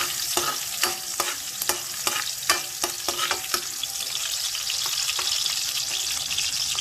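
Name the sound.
sautéing garlic and onion in a pan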